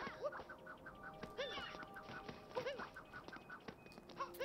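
Bird calls in Super Mario Odyssey: a busy run of repeated quacking, honking chirps layered over game music, steady and fairly close.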